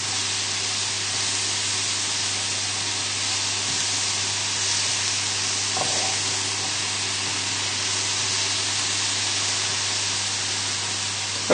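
Cabbage sizzling in a pan over full heat, a steady, loud, even hiss that holds without a break for the whole stretch, with a low constant hum beneath it.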